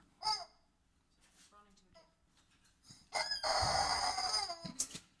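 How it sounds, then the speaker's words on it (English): A squeaky rubber chicken toy is squeezed, giving a loud, strained squawking squeal after a few brief squeaks, with children babbling and voices around it. "The Squeaky Chicken."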